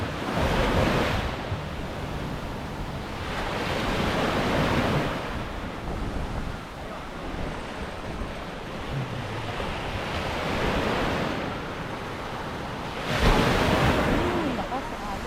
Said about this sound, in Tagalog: Lakas sa alon.